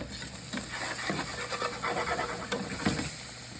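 Grated garlic sizzles in a pan while being stirred, a soft frying hiss broken by a few scraping knocks of the utensil, close and fairly quiet, with no talk.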